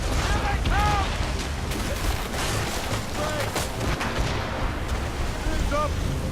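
Cannon fire booms through an Assassin's Creed Rogue naval battle, a loud dense barrage rolling continuously over crashing sea and ship noise, with shouted voices and whistling tones scattered throughout.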